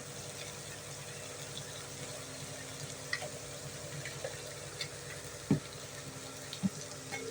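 Brinjal and drumstick curry ingredients sautéing in a pan with salt and garlic, a steady low hiss and sizzle with a few soft clinks, no talk.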